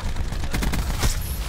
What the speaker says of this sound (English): Oh, mate, I do not fancy this gunfight whatsoever.